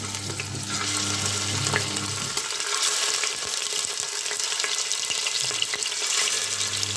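Pieces of filet mignon frying in hot oil in a pan give a steady, close sizzle and crackle that runs evenly throughout, with no one talking.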